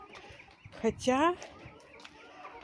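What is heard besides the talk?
chickens clucking while pecking quince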